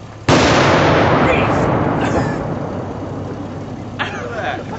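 A firework mortar shell launches with a sharp, loud bang and then a long, rumbling roar that fades slowly, with a fainter burst a few seconds later.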